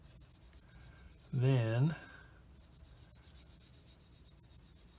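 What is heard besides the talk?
sanding plastic model kit parts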